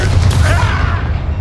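A Confringo spell blast in the Hogwarts Legacy video game, a dense booming burst with a rumbling low-end roar and fiery crackle, loud and close, held steady for a moment amid combat noise.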